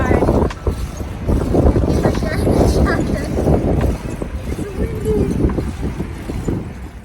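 Wind buffeting the microphone on a windy bike ride in winter mountains, loud low rumbling gusts that swell and ease throughout, with a voice briefly talking over it.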